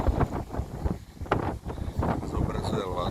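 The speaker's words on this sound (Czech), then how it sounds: "Dneska to fouká jak svině." Strong gusty wind at a seaside hotel on Sal, Cape Verde, buffeting the microphone in rough bursts, with someone talking over it close by.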